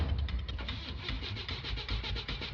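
A cartoon car engine cranks repeatedly without catching, a fast, rhythmic churning of the starter motor that is loud and close and continues without a break.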